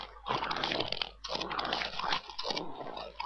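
A dog being tamed in Minecraft makes soft growling and crunching sounds in quick repeated bursts over a continuous low background hum, with no talking.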